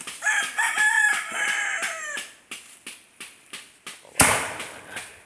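Several chickens cluck and crow close by on a farm, with a busy overlapping start settling into regular short clucks, then a sharp louder burst near the end.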